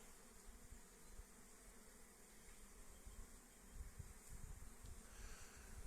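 Many honey bees hum and buzz at the hive in a dense, continuous drone close by, a busy swarm sound that swells slightly toward the end.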